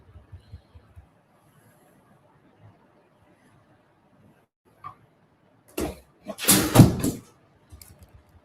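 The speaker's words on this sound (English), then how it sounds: "dog's knocking over things here." A dog knocks things over in a room: faint scattered taps and knocks lead up to a loud, clattering burst of objects falling, followed by a few light knocks.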